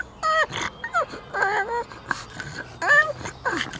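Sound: dog making a funny whimpering noise

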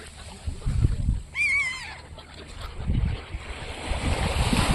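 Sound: sea waves on the shore

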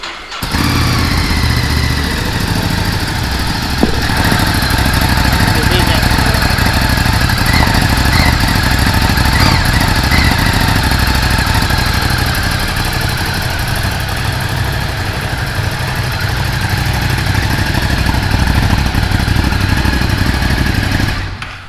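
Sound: Ducati Scrambler 1100 motorcycle engine started and idling in showroom

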